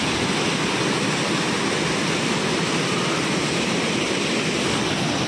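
The Sikhar waterfall near Dehradun, Uttarakhand, roars in a dense, continuous rush of falling water while spray flies onto the camera. It is loud and close, with no voices.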